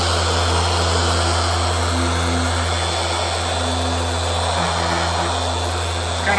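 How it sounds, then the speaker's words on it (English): Six-speed polisher set to a medium speed buffing a Dodge Ram headlight with Meguiar's PlastX, a constant close electric motor drone with a steady hum, faint pitch wavering as the pad moves. "This is a 6-speed polisher, so I've set it kind of to a medium setting."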